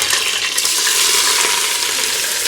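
Whole bay leaves, cinnamon, cardamom, cloves and a green chili sizzling in hot oil and ghee in a cooker for chicken biryani, a loud, steady, close hiss with light crackles and no talk.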